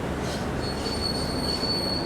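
Wheels of the 12808 Andhra Pradesh Sampark Kranti express squeal loudly and steadily as it approaches Jhansi station in rain, a sustained metallic screech over a dense rumble of rolling coaches.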